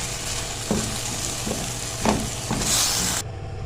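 Chicken frying in oil in a pan, a close, continuous sizzle with a few soft knocks from stirring, rising to a brighter hiss before cutting off abruptly.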